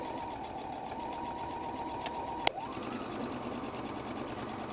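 A sewing machine stitches a messenger bag flap at a 2.5 stitch length, running as a steady, close whir that briefly changes pitch with a sharp click midway, then continues.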